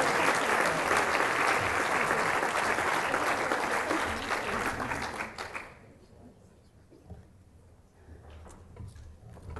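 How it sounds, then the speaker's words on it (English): An awards-ceremony audience applauds loudly and steadily for about six seconds before the clapping fades out, leaving a quieter room with scattered claps and faint murmurs. "Please give them a big round of applause."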